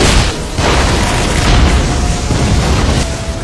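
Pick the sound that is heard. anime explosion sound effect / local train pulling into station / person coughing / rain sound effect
anime explosion sound effect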